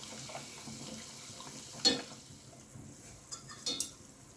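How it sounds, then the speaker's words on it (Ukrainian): A low, steady sizzle of pies frying in oil, with a few sharper clinks and splashes as they are turned in the pan. "перевертаємо на іншу сторону і продовжуємо смажити до готовності"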